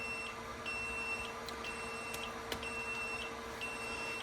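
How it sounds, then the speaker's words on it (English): A chicken egg incubator alarm beeps in short, regular tones over a steady hum, with about seven evenly spaced beeps in a row that stay moderately quiet and close by. "does this just silence the alarm?"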